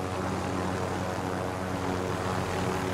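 Helicopter in the Call of Duty Warzone video game, a steady, loud droning engine and rotor roar that stays constant throughout with no talk over it.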